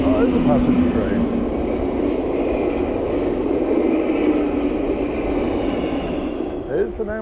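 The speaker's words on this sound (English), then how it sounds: "Oh, there's a passenger train." An Amtrak passenger train passes near a creek trail in DuPont, a loud continuous rumble and roar of wheels on rails that fills the whole stretch and fades slightly at the end.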